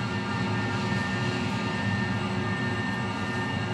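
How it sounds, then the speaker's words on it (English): An A-5 Vigilante jet lowering its gear and flaps in a flight simulator makes a constant, loud engine roar and whine that holds steady throughout, with no voices. "As you can hear, I'm bringing the gear out and putting the flaps all the way down."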